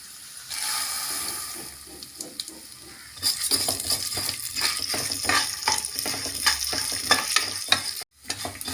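Chana dal roasts in a pan with a soft, continuous sizzle and rustle, broken by frequent scraping and rattling as the lentils are stirred, ending in a brief pause.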